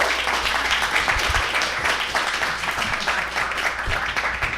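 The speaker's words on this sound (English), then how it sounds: "Please give them a round of applause." An audience claps for panel readers at a literary event, dense steady applause throughout with individual claps audible near the front, no talk over it.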